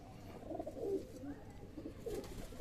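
Pigeons coo softly in a loft, a few low rounded throaty calls rising and falling in short bursts against quiet background.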